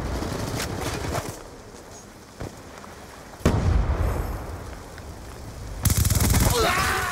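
Gunfire in Call of Duty Black Ops 2, fired from a light machine gun-style weapon: bursts of shots and bangs come in loud clusters, with scattered single reports between them.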